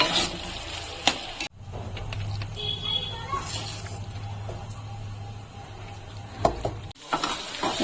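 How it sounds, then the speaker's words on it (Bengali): Continuous oil sizzle from gourd peel frying in a pan, with occasional scraping and clicks of a utensil, close up and moderately loud. "লাউ খোসাটা ভাজা হয়ে গেছে।"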